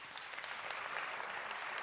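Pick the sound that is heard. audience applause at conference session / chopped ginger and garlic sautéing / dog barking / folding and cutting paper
audience applause at conference session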